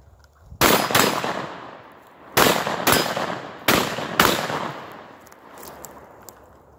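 A Beretta 1301 Tactical shotgun fires five loud, sharp blasts outdoors in uneven pairs, each shot followed by a long echoing decay.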